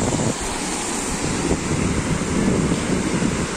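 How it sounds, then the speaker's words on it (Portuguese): Sea waves wash continuously onto a sandy beach, a loud, close, broad roar mixed with heavy wind buffeting the microphone. "Olha o barulho do mar, que delícia."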